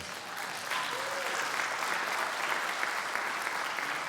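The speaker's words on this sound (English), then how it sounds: "Let's give them a round of applause." A crowd at a foundation event applauds a youth orchestra of Norfolk Public Schools students, giving a broad, even wash of clapping that swells slightly after the start and carries on steadily, somewhat distant.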